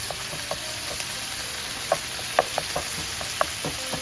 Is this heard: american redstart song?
no